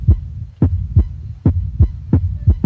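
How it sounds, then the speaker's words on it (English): A steady heartbeat thumps in a close, deep lub-dub rhythm, about a dozen beats repeating evenly and loudly over a low hum, with no talking. "The heartbeat."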